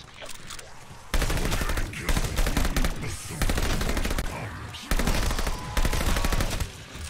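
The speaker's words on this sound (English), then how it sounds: "What the fuck is shooting at me?" Rapid bursts of automatic gunfire in Call of Duty: Vanguard, loud and close, coming in repeated volleys with brief gaps between them.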